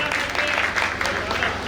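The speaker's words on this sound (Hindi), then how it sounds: "इस बच्चे के लिए आप जोरदार तालियां बजा करके" Audience clapping at a Jain temple's annual chariot procession festival, a brief, steady burst of crowd applause with a faint voice underneath.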